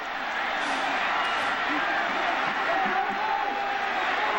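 A packed football stadium crowd at a 1998 Kansas vs Nebraska game roars steadily, urging the coach to go for it on fourth down; the dense, continuous crowd noise holds throughout without a break.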